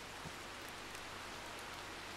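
Steady rainfall in Red Dead Redemption 2, a dense, even hiss of drops on surfaces filling the whole stretch with no talk over it.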